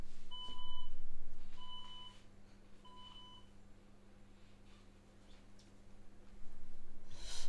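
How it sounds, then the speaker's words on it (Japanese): An electronic alarm beeps three times at a steady, unhurried pace, thin and high-pitched over a low constant hum, then quiet. "6時のアラームが鳴りました。"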